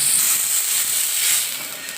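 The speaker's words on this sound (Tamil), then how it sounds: "உடனே போட்டு பொரிக்க ஆரம்பிச்சாச்சு" Fish rubbed with chili powder frying in hot oil gives a steady, close sizzling hiss that swells and eases slightly over two seconds, with no voices.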